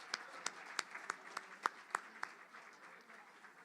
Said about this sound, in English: Let's give a round of applause to our Govies that helped us do a little science.